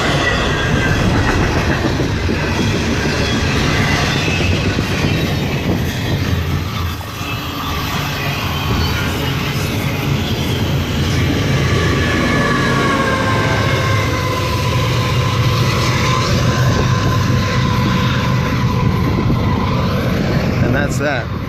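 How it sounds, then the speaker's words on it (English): Long freight train rolling steadily past close by alongside tracks, a loud continuous rumble with rail squeal and clatter that holds through the end of the train, with a voice briefly heard under the noise. "the end of the train's coming up here"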